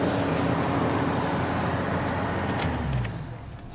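Engine of a 1988 Jeep idling with a dense, steady rumble after transmission mount work, close and loud, easing off slightly near the end.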